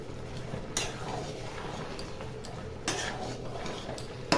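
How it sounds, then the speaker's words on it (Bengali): Salt, green chilli and sugar stirred into a dish in a pan, with a few sharp clinks of a spoon against metal over soft scraping and a faint low hum of a flame in the background. "নুন, কাঁচা লঙ্কা, চিনি এই পরিমাণে দিয়ে সব মিশিয়ে নেব।"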